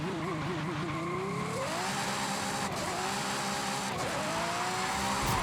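Car drifting with screeching tire squeal on the Farmland Trail drift zone in Forza Horizon 5, engine revving and pitch sliding up and down continuously, loud and close with no talking.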